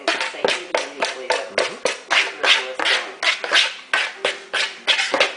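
Rapid, steady knife chops through pie dough on a board, crisp evenly spaced thuds repeating about three times a second, close and fairly loud, with no talking.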